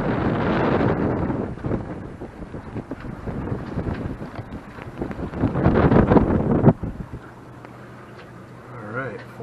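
Strong wind of 20-knot gusts buffets the microphone aboard a Tanzer 8.5 sailboat with a reefed main on the Richelieu River, a loud rushing roar that eases off toward the end, with a voice speaking over it.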